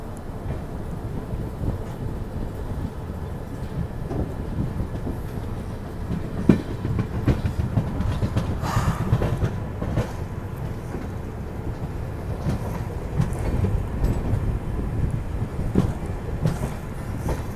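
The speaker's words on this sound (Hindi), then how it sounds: "ऑर्निहार जंक्शन निकल चुकी है अपनी Mau Anand Vihar superfast express ऑर्निहार junction से।" The Mau to Anand Vihar Superfast Express runs at night, its steady low rumble and rolling rattle of wheels on track continuous throughout, with occasional sharper clacks as the carriages sway.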